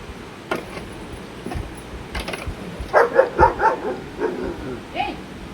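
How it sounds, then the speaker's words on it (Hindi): A dog barks in a short run of several yaps outdoors in the early morning near a cow shelter, moderately close, over quiet background noise. "टाइगर आ ही जाता है भौंकने के लिए, पता नहीं उसकी और गैया की क्या दुश्मनी है"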